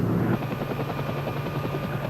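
Army helicopter with a steady, rapid rotor chop over a continuous low engine drone, moderately loud and unbroken throughout, no voices.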